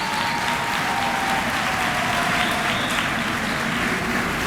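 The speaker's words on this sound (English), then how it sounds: "Graduates, please give again a round of applause and thanks to all of your family and friends who are here and have supported you on this journey." Graduates applauding their family and friends at a winter commencement ceremony, a broad continuous wash of many hands clapping at steady loudness throughout, with a faint tonal whine in the background.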